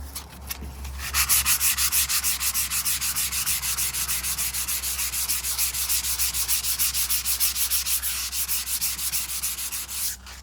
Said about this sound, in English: I'm going to basically sand this whole thing with this, mainly getting these edges